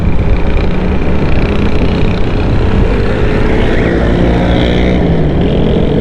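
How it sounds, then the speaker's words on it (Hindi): An Orange Line bus passes on a road in Karachi, a loud, steady engine rumble with broad road noise that fills the whole stretch without a break. "ये ऑरेंज लाइन बस जा रही है,"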